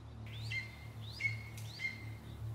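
A little robin at a garden bird table gives three short, thin chirps in quick succession, faint against a low steady background hum.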